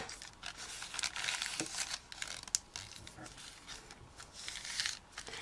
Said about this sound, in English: I'm going to fold it in half.